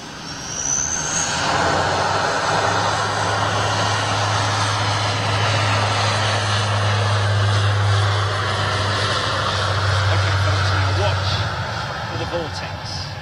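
A propeller aircraft takes off with its engines at full power, giving a loud, steady broadband roar with a low droning hum that lasts the whole stretch, while people talk over it.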